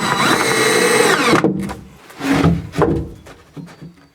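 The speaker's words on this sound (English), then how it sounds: "Now it's just a job of running the screws in" A power drill drives screws into wooden floor planks, one long buzzing run followed by a couple of shorter bursts and pauses, close and fairly loud.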